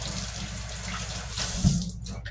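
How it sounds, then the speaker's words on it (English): Running tap water splashes steadily over hands being rinsed clean after processing field corn, a continuous close hiss with a brief louder gush near the end. "I can just rinse my hands off and get rid of all this stuff."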